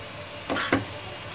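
A spoon scrapes twice through gajar ka halwa, carrot halwa with sugar just added, in a pan, making two short soft strokes over a faint background hiss.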